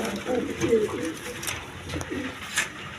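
Pigeons in a Bangladeshi pigeon market give soft, throaty coos in short repeated phrases, close by, while someone talks over them.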